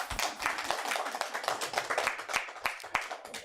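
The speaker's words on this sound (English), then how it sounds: "Let's clap for ourselves." A small group of people clapping together in a studio setting, a quick, uneven patter of claps lasting a few seconds and fading slightly toward the end.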